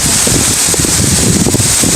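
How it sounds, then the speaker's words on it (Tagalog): Strong wind roaring steadily and loudly across an outdoor rural spot, a constant blustery rush buffeting the microphone for the whole moment. "Marami lang talaga yung hangin ngayon."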